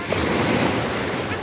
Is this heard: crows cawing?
no